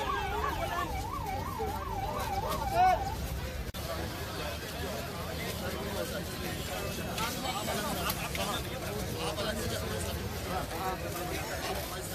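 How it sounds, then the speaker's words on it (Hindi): An ambulance siren wails with a rising and falling tone for about three seconds over busy street babble and traffic, then the crowd and road noise carries on alone. "एम्बुलेंस"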